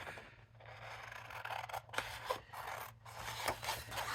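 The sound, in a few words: scissors roughly cutting out a paper image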